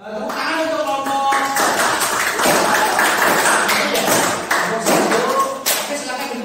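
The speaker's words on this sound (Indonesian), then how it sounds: "Tepuk tangan untuk kelompok." Classroom applause for a student group after their presentation, a dense broadband patter of many hands clapping steadily and loud, with voices mixed in underneath.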